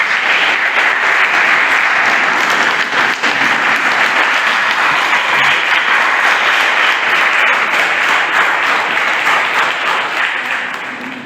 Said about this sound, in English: give a thunderous clap and a standing ovation for all the students who have performed here